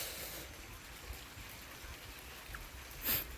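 Steady rain falls during a storm at a small hut, a dense even hiss of drops close by with a brief louder splash near the end, no talk.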